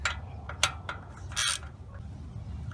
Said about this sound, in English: You're gonna run the lug bolt through there.